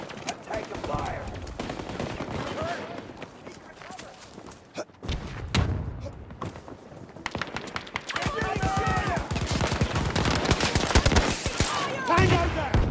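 Dense, sustained gunfire and rapid automatic bursts from a Battlefield 2042 Rush match on the Stranded map, loud and nearly continuous, with shouted voices over the shooting.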